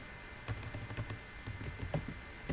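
Fingers type switch configuration commands on a computer keyboard, a quiet, uneven run of close key clicks over a low background hum.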